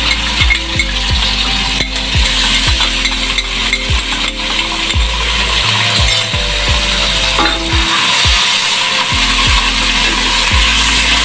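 Onions sizzling in a pan with two tablespoons of ginger-garlic paste while being stirred, a steady loud frying hiss with repeated scraping and clacking of a spoon against the pan in an uneven rhythm.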